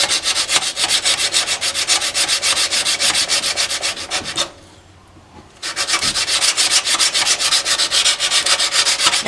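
A steel chisel back, bought on eBay, is rubbed flat on sandpaper in steady back-and-forth strokes. The loud gritty scraping runs continuously, with one short pause in the middle before it resumes, and no one speaks.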